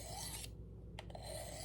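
A knife is drawn across the coarse ceramic rod of a Work Sharp Guided Field Sharpener, giving close, dry rasping strokes: one long scrape, a short silent pause, then several quick shorter strokes.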